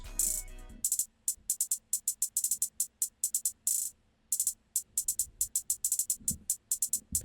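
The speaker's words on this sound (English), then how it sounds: "One other thing very common in Futuristic Glo is the hi-hat pattern." A busy trap hi-hat pattern ticks rapidly, with fast rolls and stuttering bursts broken by brief pauses, crisp and bright over faint low rumble.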